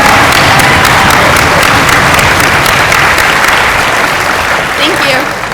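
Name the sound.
audience applause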